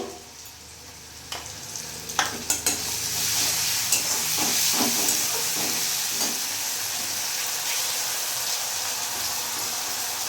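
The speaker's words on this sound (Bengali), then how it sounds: "এরই মধ্যে আমি এখানে আদা রসুন লঙ্কা পেস্ট 2 চামচ দিয়ে দেবো" Ginger, garlic and chili paste hits hot oil with onions for an egg curry, giving a steady close sizzle with a few sharp spits and pops as it goes in, then a continuous frying hiss.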